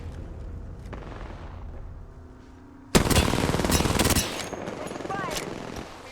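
Rapid automatic gunfire from an Apex Legends Arenas match erupts in a loud, dense burst of shots after quieter game sounds, with a voice speaking amid the firing.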